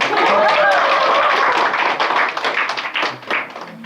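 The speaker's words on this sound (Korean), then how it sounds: "박수 한번." Audience at a social media instructor training lecture clapping, a dense burst that thins into scattered individual claps before fading out.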